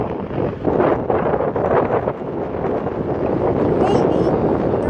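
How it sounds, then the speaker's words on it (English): Strong wind at an airport roars and gusts across the microphone in a continuous loud buffeting rush, with no break in the noise. "the wind's picking up"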